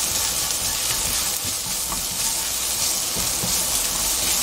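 Minced garlic fries in a pan in a half-and-half mix of cooking oil and sesame oil, with a close, steady sizzle and bubbling hiss that holds evenly throughout and no talking.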